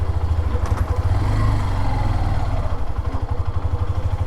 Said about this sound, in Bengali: ধরেন আমি বাইকটা চালানো শুরু করলাম, 3 নাম্বার গিয়ার দিয়ে দিলাম